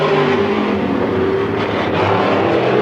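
Race cars roar steadily around the oval at Midvale Speedway in 1995, a loud continuous engine drone with a sustained tone and no clear breaks.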